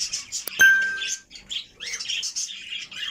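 A pet budgerigar kept among other cage birds gives quick, high chirps and soft twittering close by, with one brief sharp click near the start.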